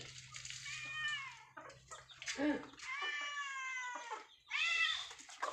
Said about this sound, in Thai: ไก่ก็จะจิกแมว แมวก็จะร้อง